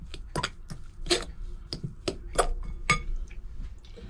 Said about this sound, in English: Mix the cheese into the pate and butter.